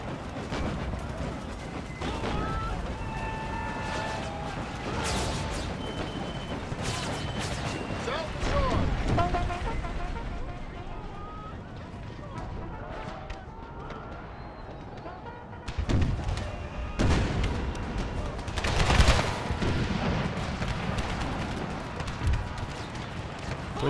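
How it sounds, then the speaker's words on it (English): Whitworth cannons and other artillery fire during a Battle of Gettysburg scene in a Civil War strategy game, with repeated booms and thuds over a rumbling battlefield din, while someone talks over it. "Whitsworth cannon fire on their light horse artillery."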